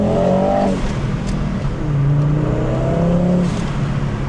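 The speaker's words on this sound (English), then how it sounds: "Five-cylinder engines are so good. It sounds so deep and meaty." A Volvo 850 GLT five-cylinder engine revs in deep, throaty blips, rising and falling twice over a few seconds, loud and close with no talking.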